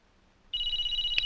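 A telephone starts ringing abruptly after a brief quiet moment, giving a steady, high electronic trill that carries on to the end without any voices.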